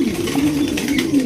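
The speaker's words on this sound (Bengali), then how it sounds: "একজোড়া সিলভারের মধ্যে ভাই লাহোরি সিরাজি কবুতর, লাহোরি কবুতর" A pair of silver Lahori Siraji pigeons coo close by, giving a low, continuous, gently wavering murmur that carries steadily through the moment with no talking.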